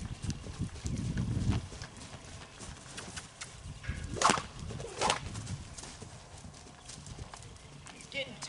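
Hooves of a horse being re-started under saddle after two years unridden clip-clop around close by, steady and uneven, with occasional snorts and a whinny-like sound; a person talks over much of it.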